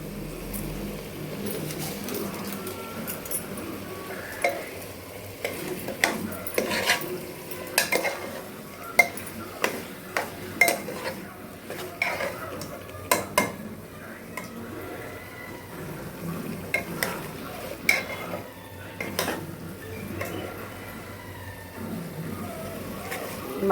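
Mutton fries in a pan with turmeric and salt, a low continuous sizzle with frequent sharp clinks and scrapes of a ladle stirring, and occasional talk in the background.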